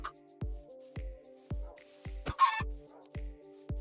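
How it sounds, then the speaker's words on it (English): A chicken in a video game clucks repeatedly over steady rhythmic thumping game music, with a brief, louder cluster of squawks near the middle. "is there another chicken somewhere? I hear it."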